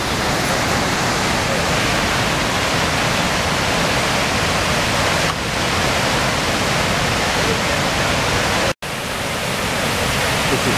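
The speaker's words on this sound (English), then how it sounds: "you hear the pleasant sound of rushing water all along the trail" Dukes Creek rushes along a forest trail, a loud, continuous broadband roar of flowing water that stays steady for about eleven seconds with no voices.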